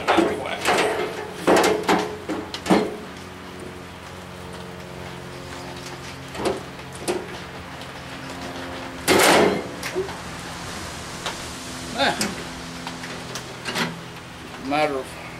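Metal drawers slide into a Harbor Freight US General roll-around tool cart, giving several scattered clunks and sliding rattles, with one loud burst of impacts partway through and quieter knocks between, near and fairly loud.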